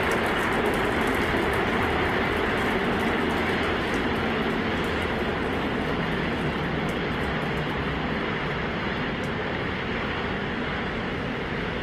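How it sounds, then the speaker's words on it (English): SpaceX Starship launch with 33 Raptor engines on the first stage, a dense continuous roar with crackling texture, loud and steady throughout with no voices. "33 Raptor engines powering the first stage"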